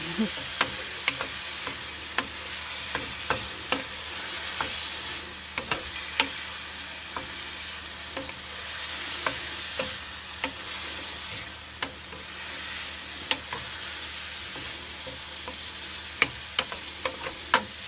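Food sautés in a hot pan with a steady soft sizzle, punctuated by frequent sharp taps and scrapes of a utensil stirring, close and fairly quiet, with no voices.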